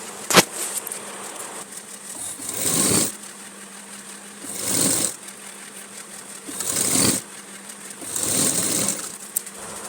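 A sewing machine stitching fabric for a girl's dress runs in several short bursts, each a few seconds long, separated by quieter gaps, close and moderately loud with no talking.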